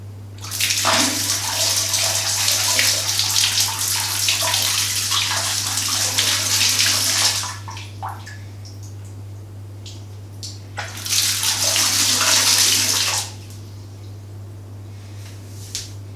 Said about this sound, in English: And now we will turn on the water supply.